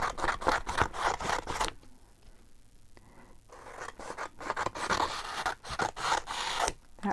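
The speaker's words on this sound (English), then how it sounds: "So I'll just give those a snip." Scissors snip through sticky paper strips during envelope page crafting, giving a run of crisp, rapid cuts with a brief quieter pause midway before the snipping resumes, close and fairly loud.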